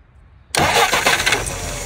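A Yamaha YS 950S snowblower engine cold starting, a brief crank that catches suddenly and settles into a loud, steady, close-up running rumble after a short quiet lead-in.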